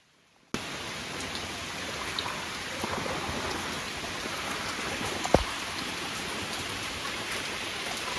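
Steady, dense rain falls at a cattle farm, a constant wash of patter on surfaces with one brief louder knock partway through, no voices.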